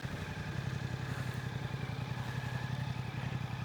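A 2023 Suzuki GSX-8S motorcycle engine idles steadily at close range, a low throbbing rumble with some mechanical clatter running without a break and without talk.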